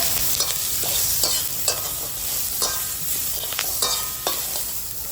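Chopped raw onion and green chilli fry in a little oil with a steady sizzle, while a spatula scrapes and taps the pan in regular strokes about every half second, close and clear.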